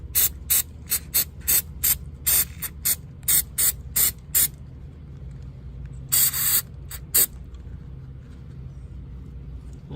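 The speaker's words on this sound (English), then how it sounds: "I'm going to start spraying it from here." Short sharp bursts of aerosol cleaner sprayed into the throttle body of a Toyota Camry, a quick run of about a dozen hisses in the first half, then a few more spaced bursts over a low steady hum, fairly close.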